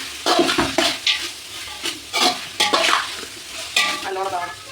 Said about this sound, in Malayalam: ഇനി അതിലേക്ക് നല്ല അരിഞ്ഞ് വെച്ച തക്കാളി ഇട്ട് ചേർത്ത് കൊടുക്കുക, നല്ലോണം ഇളക്കി കൊടുക്കുക.